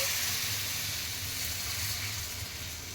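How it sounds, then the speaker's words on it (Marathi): Dosa batter poured onto a hot, oiled griddle gives off a steady, soft sizzling hiss that stays fairly even for a few seconds. "तवा गरम केला त्याच्यावर तेल पसरवलं आणि तयार केलेल्या डोसाचं मिश्रण हे असं मी पेल्यानं घालत आहे"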